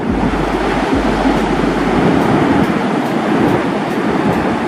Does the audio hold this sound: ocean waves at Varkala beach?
yes